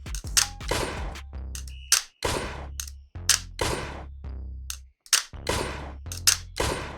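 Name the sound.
Wonderfitter M9 Smart VR pistol controller firing with recoil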